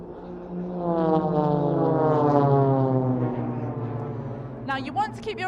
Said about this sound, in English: The 2 aircraft in the middle of the formation are going to brake in front of one another